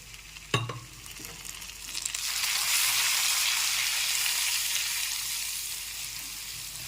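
Turmeric and coriander powder with a splash of water stirred in a hot frying pan for a rohu fish curry, a sharp clack of the spoon, then a rising steady sizzle that fades slightly.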